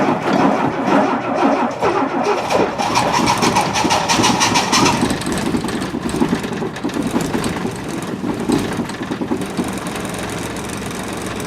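An old car engine in a shed cranks and catches, then settles into a steady, cold, rough idle that runs loud and continuous throughout.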